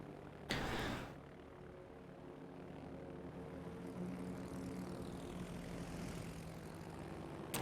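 Propeller-driven torpedo planes in World of Warships drone steadily through the air, with a loud burst near the start and then a continuous engine hum holding on to the end.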